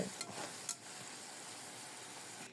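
Sliced onions and green chillies fry with salt in a pan with a quiet, continuous sizzle and a few light stirring scrapes, no voices.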